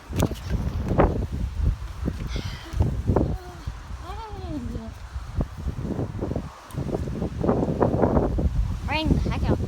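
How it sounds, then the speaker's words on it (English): Gusty wind at Newmarket, UK, rumbling across the microphone in low bursts, with voices talking through most of it. "there's a windstorm outside"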